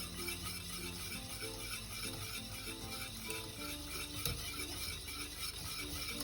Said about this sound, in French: Là c'est en train de bien épaissir, on continue bien à remuer.